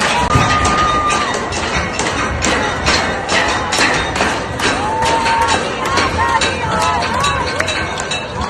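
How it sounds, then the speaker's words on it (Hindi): A large crowd gathered outside Imam Khomeini's house and office in Tehran, a loud, dense roar of many voices with shouting and whistles that carries on steadily throughout, punctuated by repeated sharp claps or thuds. "तेहरान में जो इमाम खुमैनी के मतलब घर भी कहा जा सकता है और दफ्तर भी कहा जाता है, वहां पर यह भीड़ पहुंच गई"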